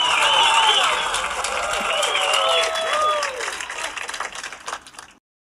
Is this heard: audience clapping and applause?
yes